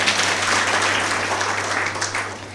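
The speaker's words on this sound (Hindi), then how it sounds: "तालियां बजाओ" An audience in a spiritual class hall in Lucknow claps together on request, a dense burst of applause that holds steady and then tapers slightly toward the end.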